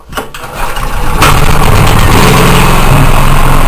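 A generator engine running on choke cranks with a few uneven pulls, then fires and roars into a loud, steady run close by.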